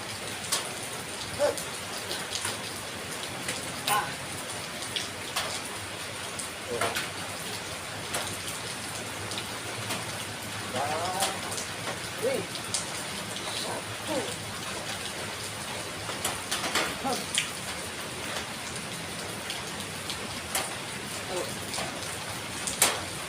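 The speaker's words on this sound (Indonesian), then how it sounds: "Ini rasanya enak kalau hujan-hujanan sih." Heavy rain pours steadily outdoors, a dense, even hiss of drops striking surfaces with scattered louder splashes, continuous and close throughout.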